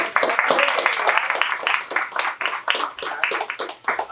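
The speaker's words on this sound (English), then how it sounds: "How about a round of applause for the staff?" An awards gathering claps for the staff, a lively burst of many hands with sharp individual claps, fairly close and sustained, thinning slightly toward the end.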